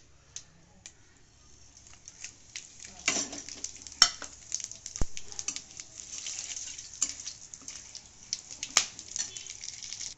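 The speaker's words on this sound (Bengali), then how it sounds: "এখানে আমি দুটো তেজপাতা, দুটো শুকনো লঙ্কা, একটু জিরে, দুটো লং, চারটে এলাচ নিয়েছি। এগুলো আমি ফোড়নে দিয়ে দেব।" Whole spices hit hot oil for tempering: two bay leaves, two dried red chilies, a little cumin, two cloves and four cardamom pods. A faint crackle grows into a busier sizzle with scattered sharp pops, and nobody talks.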